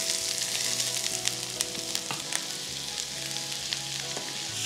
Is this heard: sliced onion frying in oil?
yes